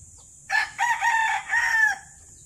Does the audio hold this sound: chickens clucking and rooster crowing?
yes